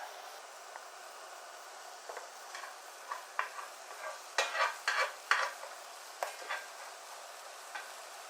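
A smash burger patty topped with cheese slices on a griddle gives off a quiet, sparse sizzle, with scattered crackles and pops that cluster in a brief busier burst midway before thinning out again.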